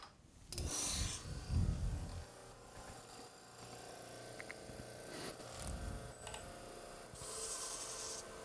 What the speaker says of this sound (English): I put a mark there, make sure I check to make sure I get all three of them and I don't sand one of them twice or something